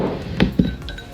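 Two quick, light clinks ring out as liquid is poured into a very small glass cup, the contact sounds crisp, close and brief.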